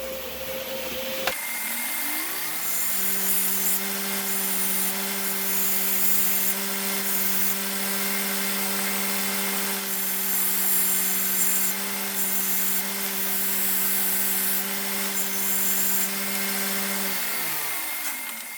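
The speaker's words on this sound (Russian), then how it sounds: "Также сразу сниму фаски под сварку." A power tool cuts weld chamfers on metal parts in a workshop, its motor spinning up and holding a loud, steady droning whine with grinding rasp for most of the time before winding down.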